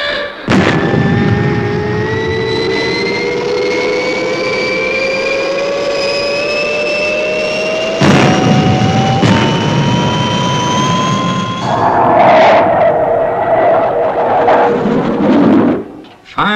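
The Fireball XL5 spaceship launches with a loud, sustained jet-like roar whose whine climbs steadily in pitch, joined by sharp bursts and a rougher rushing blast near the end.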